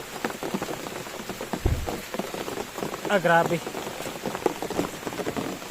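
Rain falls steadily on surfaces in a forest during a storm, with dense, close patter throughout. A voice speaks briefly, and a low thump and a short tonal sound stand out midway.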